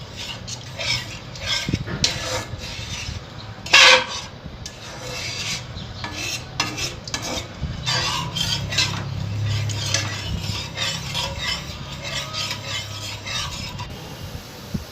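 A spatula scraping and stirring egg curry masala in a pan, rough rasping strokes with occasional metallic knocks, close and fairly loud, then a softer bubbling stretch.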